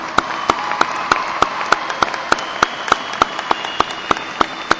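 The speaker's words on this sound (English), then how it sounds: "Let's give them one more round of applause." A graduation ceremony crowd applauds the graduating class in a steady run of loud, evenly spaced claps that continue for about five seconds with no talking over them.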